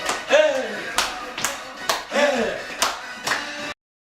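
About six sharp hand claps land in a loose rhythm during a flash mob dance routine, with a voice heard between some of them.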